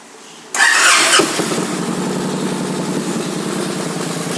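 A 2011 Victory Vegas motorcycle with a fuel-injected 106 cubic inch V-twin and a Power Commander cranks with a loud starter whir, fires up and settles into a steady, rumbling idle close by.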